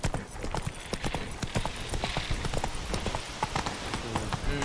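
Hooves of Roach, the horse in The Witcher 3, clip-clopping in a fast, steady gallop, fairly close and loud, with faint game ambience behind.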